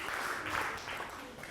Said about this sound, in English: Let's give it two big claps.